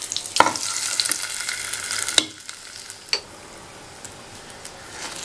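Fried urad dal tempering with chopped curry leaves tipped into idli batter, giving a bright hiss that fades quickly, with a few sharp clinks and taps from utensils over about five seconds.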